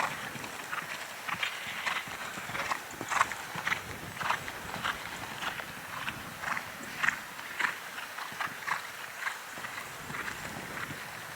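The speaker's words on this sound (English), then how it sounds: "Could you trot, Tina?" An event horse's hooves beat on an arena surface during a cross-country lesson, a steady rhythmic clip-clop of walking and trotting footfalls at moderate distance with no talking over them.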